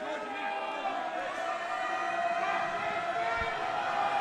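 A home crowd at a men's college basketball game roars and whistles steadily through a free throw, a dense, sustained wall of noise from the stands with a commentator talking over it.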